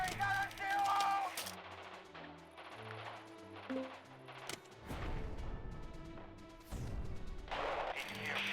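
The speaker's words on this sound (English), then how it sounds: "We're under heavy artillery!" Heavy artillery fire in the Radio General war game, distant booming blasts and rumbling shell impacts under low game music, the thuds swelling and fading over several seconds.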